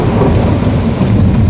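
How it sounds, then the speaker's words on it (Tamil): Loud, continuous downpour of heavy rain mixed with rolling thunder rumbles, a dense storm soundscape filling the whole moment with no voices. "மேகங்கள் கர்ஜித்து மின்னல் பளிச்சிட்டது. மழை வெள்ளமாய் பொழியத் தொடங்கியது."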